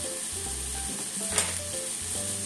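Shiitake mushrooms and leeks frying in a pan over high heat, a steady loud sizzle that runs throughout, broken by faint scraping and stirring.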